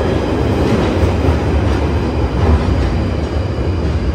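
A train runs steadily on rails toward Camden Town, giving a loud, continuous low rumble with a faint rhythmic clatter of the wheels and no one talking.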